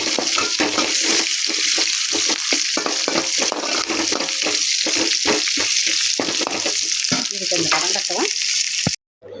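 Onion frying in oil in a kadai with mustard seeds and curry leaves, a steady close sizzle with frequent stirring scrapes and clicks throughout, cutting out abruptly at the very end.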